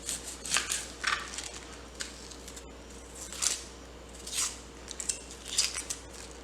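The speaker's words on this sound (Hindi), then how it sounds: "इस तरह से हम प्याज इसको काटें।" Onion peels are cut in a home kitchen, heard as a series of sharp, crisp snipping and crunching strokes at an irregular pace, fairly close but quiet, with no talking.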